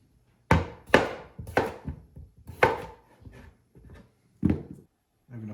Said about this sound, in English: take some potatoes and just chop them up coarsely